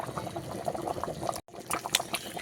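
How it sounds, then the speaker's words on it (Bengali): Meat curry boils hard on a high flame, giving a dense, steady bubbling with wet pops and gurgles, close and loud, broken once by a brief silent gap. "জোরে জ্বালান লাগিয়ে দিয়ে ভালো করে ফুটিয়ে নিতে হবে"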